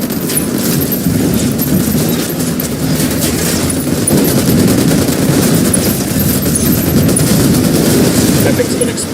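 Sustained bursts of automatic gunfire in the video game Ghost Recon Wildlands, loud and continuous with rapid rattling shots and scattered booms throughout.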